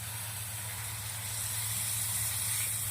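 Water poured into a frying tomato masala gravy for mushroom gobhi masala, a continuous loud hiss and sizzle of steam without pause.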